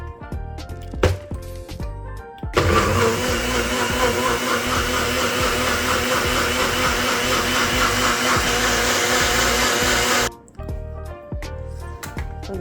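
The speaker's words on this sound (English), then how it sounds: "Put it on the NutriBullet. If you have a blender, you put it in your blender." A NutriBullet blender whirs loudly and steadily for about eight seconds while blending minty lemonade, starting and stopping abruptly between quieter kitchen sounds.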